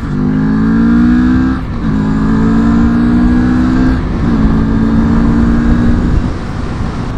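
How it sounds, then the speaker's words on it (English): A Moto Morini Seiemmezzo motorcycle accelerates hard, its loud, close engine note climbing in pitch through three gear-shift steps with a brief dip between each pull. "So let's give it a quick acceleration test."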